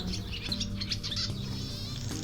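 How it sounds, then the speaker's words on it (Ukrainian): A swallow twittering in quick bright chirps and short warbles, close and fairly faint, with no voices around it. "Ластівка це маленька пташка, яка має роздвоєний хвіст, довгі тонкі крила"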